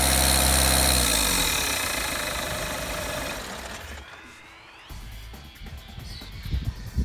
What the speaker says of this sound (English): I'm going to wait Paul to stop doing it and switch off the engine.